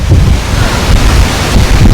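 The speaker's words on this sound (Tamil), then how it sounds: "காற்று பலமாக அடிச்சிட்ருக்கு" Strong wind at Mount Faber, Singapore buffets the microphone in a loud, continuous roar with gusty surges, close and unbroken for the whole moment, with no talking.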